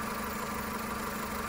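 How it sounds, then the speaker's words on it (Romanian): A Volkswagen Golf 5 car engine idling, a steady, even hum with a constant low rumble, close and continuous with no voices. "Motorul toarce."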